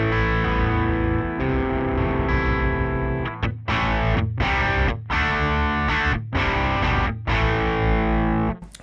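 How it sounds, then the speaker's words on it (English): Electric guitar through a Suhr Riot distortion pedal set to lower gain with Marshall-style crunch, sustained chords followed by a rhythmic series of chopped, muted strums, loud and alone. "If we turn the distortion way down, it keeps very much that same kind of Marshall energy"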